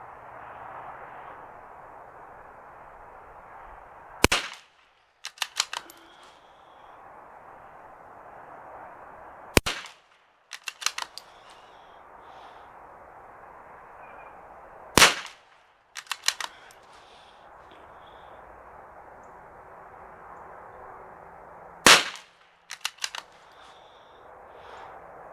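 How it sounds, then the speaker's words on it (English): A Ruger Mk II pistol firing CCI standard velocity rounds in four clusters of sharp, loud reports, each a hard crack followed by a few quicker shots, over a steady outdoor hiss. "CCI new standard velocity, 15 rounds. Let's give it a rip."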